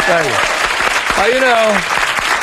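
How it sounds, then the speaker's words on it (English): A studio audience on a 2005 talk show breaks into steady applause while voices speak over the clapping. "A round of applause."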